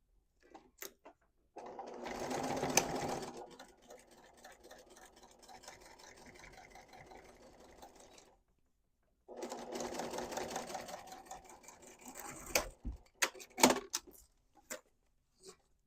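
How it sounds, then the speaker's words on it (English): A sewing machine stitches back over an existing seam on a quilted fabric cube bag. Two steady, close runs of rapid mechanical whirring are separated by a brief pause and followed by scattered clicks and handling noises. "So I'm just going to flip this over and sew this right over that same seam that we made before."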